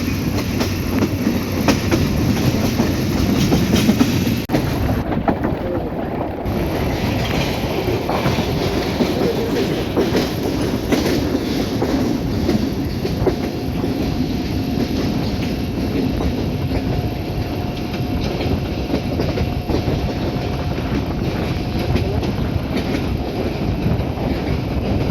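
Kalni Express passenger train running through the Kulaura–Baramchal section near Sylhet, heard from inside the carriage as a loud continuous rumble with rhythmic clickety-clack of the wheels over rail joints and a faint squeal.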